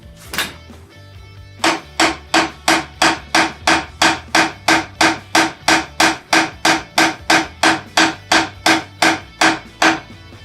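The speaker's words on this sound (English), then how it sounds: "I'm going to top it in with the hammer." Steady, rapid hammer blows, about two or three per second, driving dowels into solid wood up close with a sharp, even rhythm and no talking.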